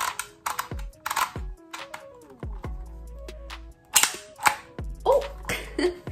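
A label maker chops through a freshly printed cashews label for a small kitchen pantry, giving several sharp, close clicks and snaps spread through a quiet room, with faint whirring between them.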